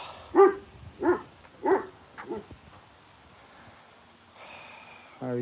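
Several dogs bark up close: four loud barks in a steady rhythm, then a quieter stretch with faint whimpering and a final yelp-like bark.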